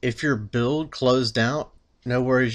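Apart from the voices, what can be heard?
No distinct noise like a dog, phone or traffic.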